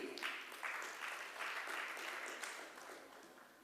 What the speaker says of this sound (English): I want a huge round of applause for Shubham and Tiger